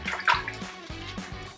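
Water is poured into a pan of ceiling patch mix, giving a short, close, splashing pour with gurgling pulses that lasts under two seconds, with no talking.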